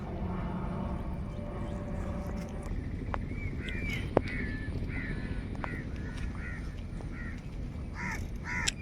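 Repeated crow caws ring out at intervals over a steady rumbling background at a backwater lake, several calls close together, moderately loud and fairly near.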